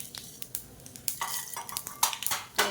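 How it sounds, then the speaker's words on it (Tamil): Mustard seeds and urad dal dropped into a hot pan while making puttu, giving scattered crackling pops and metal clinks of a spoon against the pan, sharp and close, with clusters of bursts toward the end. "கடுகு உளுந்து சேர்த்துக்கலாம்."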